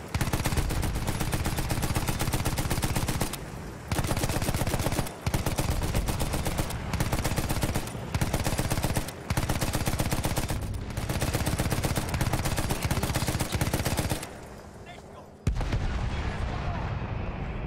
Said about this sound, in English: Oh, the machine gun's too OP.